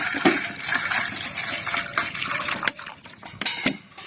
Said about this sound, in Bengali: এইভাবে কিন্তু ভালো করে কষলে কষলে ধুয়ে নিতে হবে